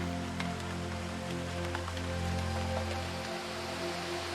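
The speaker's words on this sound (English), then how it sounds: "This constant rain is why such dense rainforest flourishes here." Heavy tropical rain in the Daintree rainforest, a steady faint hiss of drops on foliage with a low even hum beneath, continuous and unbroken.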